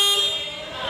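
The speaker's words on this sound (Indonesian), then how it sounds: "Dan kita periksa klakson" A car horn sounds in one steady, continuous blast lasting under a second, close and fairly loud, during a periodic vehicle service check with the car up on a lift.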